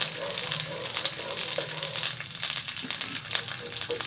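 Peas are stirred in a kadai of hot ghee and water, giving a continuous close sizzle with scraping stirring strokes throughout.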